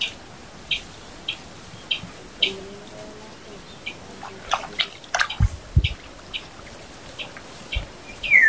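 Birds chirp in short, scattered calls at a rural rice-planting site, with sparse tweets spread across the clip over a quiet outdoor background and a few louder clicks near the end.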